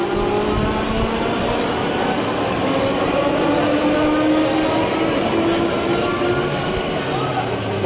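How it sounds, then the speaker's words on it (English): A pair of Class 458 electric multiple units runs through Clapham Junction toward London Waterloo, a loud steady rumble of wheels on rail with rising tonal motor whine and faint squeal, close and continuous throughout. "Pair of Class 458s with a service to London Waterloo."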